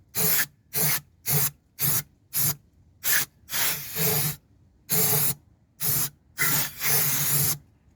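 Short bursts of aerosol contact cleaner sprayed onto car brakes on a Rover 45, about a dozen hissing blasts in an uneven rhythm, some longer, loud and close with no talk.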